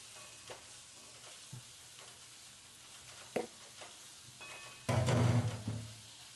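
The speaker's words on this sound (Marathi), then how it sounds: "कारले थोडे फ्राय करून घ्यायचे." Sliced bitter gourd fries in a pan with curry leaves, giving a quiet sizzle broken by occasional stirring knocks and a louder burst of frying near the end.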